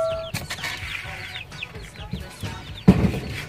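Rhode Island Red chickens cluck close by, a busy run of short chirpy clucks and calls with a louder squawk near the end.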